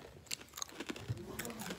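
Crunchy snack being chewed up close in a hair salon, a quick series of crisp bites and crunches over under two seconds, quiet and irregular.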